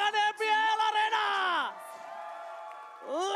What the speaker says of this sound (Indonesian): minta tepuk tangan MPL Arena